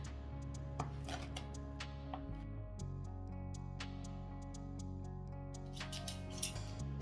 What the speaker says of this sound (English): now I'm just going to give it some quick chops